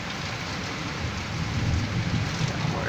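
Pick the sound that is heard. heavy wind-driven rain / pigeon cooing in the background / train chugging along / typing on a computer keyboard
heavy wind-driven rain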